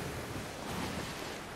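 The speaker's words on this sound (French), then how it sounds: "Wow, y a de ces vagues, mon gars." Ocean waves in the pirate video game Sea of Thieves, heard as a steady, loud wash of surf and rushing water filling the whole moment with no talk.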